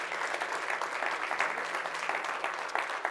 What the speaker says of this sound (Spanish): Un aplauso bien fuerte a nuestro Dios.